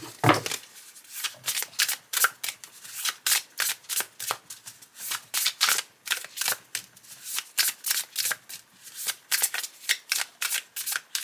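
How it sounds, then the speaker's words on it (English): A deck of oracle cards being shuffled over and over, a steady run of crisp riffling bursts, close and fairly quiet, with no talking. "shuffle these a bit"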